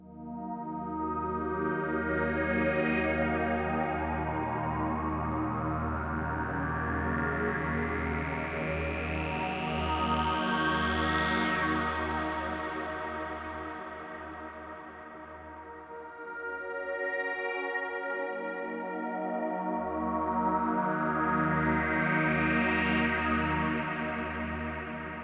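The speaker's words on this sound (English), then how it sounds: "And you best believe that'll sound amazing through a reverb. So let's hear the LX-24." A sustained synth tone through an Arturia LX-24 reverb plugin (Lexicon 224 emulation), with a long, washing reverb tail and shimmering echoes, its pitch sweeping upward and swelling in loudness, with no voices.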